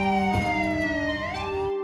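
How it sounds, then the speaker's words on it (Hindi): An ambulance siren wails alone in the middle of the night at an accident scene with injured people, a loud, sustained two-tone electronic whine whose pitch slides and shifts partway through before cutting off abruptly. "एम्बुलेंस का सायरन जैसे बीच रात में रो रहा था।"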